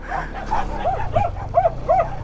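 A dog barks about six times in a quick, even series, fairly close and loud, on a mountain road on Mt. Ugo at night, over a low rumbling background.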